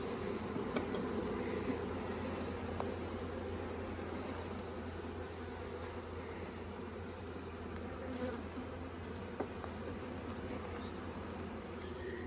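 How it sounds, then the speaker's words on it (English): Honeybees buzzing steadily as they are shaken from frames into a nuc hive, a dense, continuous drone close by with faint knocks and thumps scattered through it. "I'm going to shake the rest of these bees in there"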